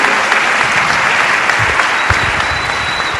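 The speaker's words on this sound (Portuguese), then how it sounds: "Queria um aplauso também para o pastor Reginaldo, para a pastora Alessandra" Loud, steady applause from a church congregation for two pastors at a worship service, dense clapping sustained throughout without speech.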